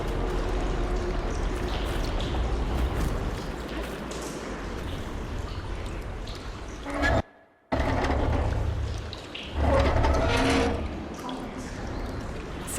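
Water rushing through pipes after a valve is opened in Horizon Forbidden West, a loud continuous pouring stream that cuts out for a moment and then surges back.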